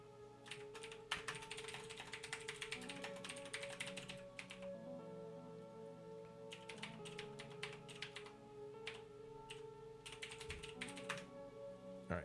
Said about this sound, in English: I'll just type it out again.